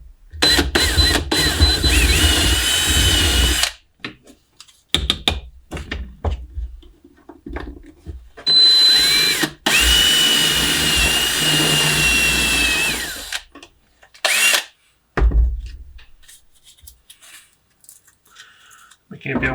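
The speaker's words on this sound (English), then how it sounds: "It's the first time I use this kind of drill bits." A power drill bores through the plastic of an Oculus controller resting on a wood block, whirring in several loud, close bursts separated by short pauses and quiet gaps.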